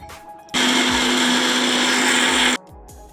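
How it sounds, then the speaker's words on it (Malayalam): An electric mixer grinds shallots and cumin for a jackfruit curry, a loud steady whirring motor roar that starts abruptly and runs for about two seconds before cutting off, with quiet kitchen noise on either side. "അത് ഒക്കെ കൂടി ചേർത്ത് നന്നായിട്ട് നമ്മൾ അരച്ചെടുക്കുക."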